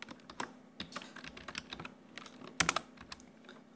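Typing on a computer keyboard while working in Photoshop: quiet, irregular key clicks in quick bursts, close and alone.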